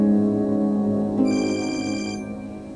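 A telephone rings in a Hum TV drama scene, a sustained electronic ringtone with tonal notes that shift partway through, loud and close with no speech over it.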